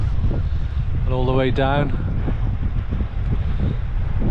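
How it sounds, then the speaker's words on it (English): Steady wind buffets the microphone on an open clifftop above the sea near Ogmore and Southern Down, a constant low roar throughout while someone speaks briefly near the middle. "The wind has come up or come round a bit"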